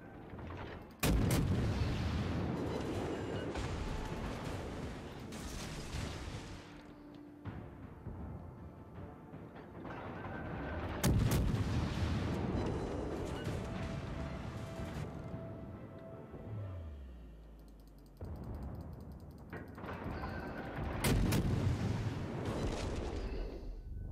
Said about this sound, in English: Them big scary main guns there.